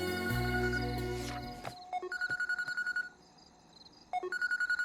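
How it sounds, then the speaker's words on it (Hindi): A phone rings with an incoming call, bursts of rapid electronic tones repeating in short pulses after a louder musical passage fades out, clear and close. "ये तो दोबारा फोन कर रहा है।"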